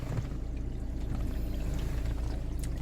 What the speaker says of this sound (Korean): 지금 5분째 물 뿌리고 있는데요